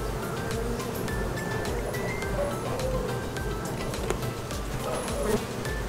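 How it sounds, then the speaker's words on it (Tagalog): Honey bees buzz around an opened beehive during a post-harvest inspection, a steady close hum of many insects filling the whole stretch at a moderate level. "bubuyog."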